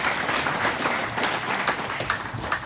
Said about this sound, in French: On peut l'applaudir tout à fait.